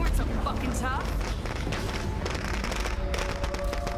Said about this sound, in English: Are those firecrackers?